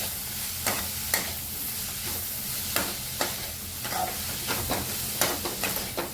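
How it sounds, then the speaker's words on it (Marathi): Vegetables are stir-fried with fried rice masala for egg fried rice, with a continuous sizzle broken by regular sharp scraping strokes of a spatula in the pan, close and loud, with no voices. "आपलं लोडस फ्राईड राईस मसाला तो घालून घ्यायचा परतून घ्यायचा सगळ्या भाज्यांना वगैरे लागला पाहिजे मसाला आपला"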